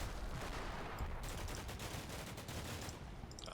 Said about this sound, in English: Some mortars.